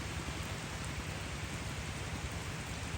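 Rain falling on a rice field in the countryside, a soft, even hiss of steady rainfall with no voices.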